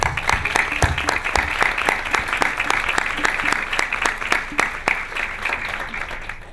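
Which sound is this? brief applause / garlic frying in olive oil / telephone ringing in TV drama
brief applause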